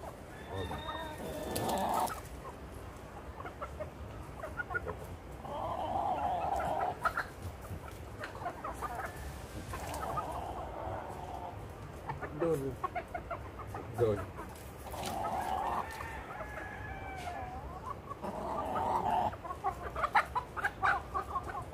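Chickens on a Jamaican plantation cluck in repeated bursts, close by and fairly loud, with quieter gaps between clusters of calls. People can be heard talking in the background.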